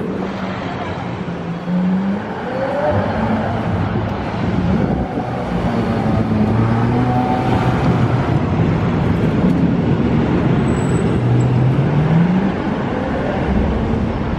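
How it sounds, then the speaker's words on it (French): A McLaren Senna sports car drives on the Monaco Formula 1 street circuit, a steady loud engine roar rising and falling with gear changes, heard throughout with wind buffeting the microphone. "Et une Senna sur le circuit de Formule 1 de Monaco."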